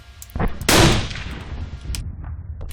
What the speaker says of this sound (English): Oops, that was a Molotov.